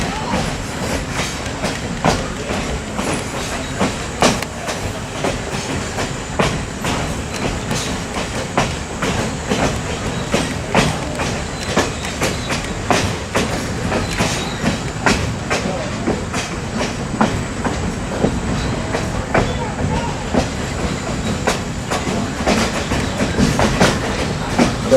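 Steady clickety-clack of the Essex Steam Train's carriage wheels over rail joints, a continuous close rumble with regular sharp knocks throughout, heard from on board.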